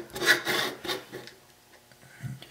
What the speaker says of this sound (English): just take your screwdriver and wedge it in between the chip and the socket and kind of twist a little bit